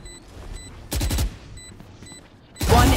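Gunfire in the video game Valorant: two short, sharp bursts of rapid shots, loud and close, separated by a quieter stretch with faint game beeps.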